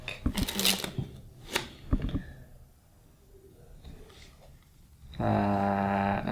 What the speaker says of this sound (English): Actually, that's a fairly good shuffling job.